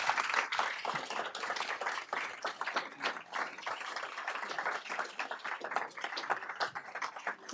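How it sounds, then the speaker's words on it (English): An audience claps through an evening event on a Colorado climate action plan with the governor, a dense, fairly quiet patter of many hands that continues evenly without pause. "round of applause"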